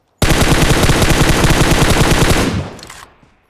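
Loud, close automatic gunfire from PUBG Mobile sounds as one rapid, steady burst of about two seconds that quickly tails off into silence.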